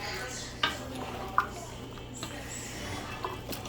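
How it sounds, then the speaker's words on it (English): A spoon stirring beans with pepper and onion in a pot, soft scraping and squishing with a few sharp clinks against the metal, fairly quiet over a low steady background hum. "we're gonna mix everything together and let it blend in"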